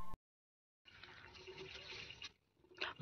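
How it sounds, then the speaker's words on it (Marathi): Monsoon rain falling during the Shravan season, heard as a brief, faint, steady watery hiss lasting about a second and a half before dying away. "पाऊस पडलाय, पाऊस चालू आहे"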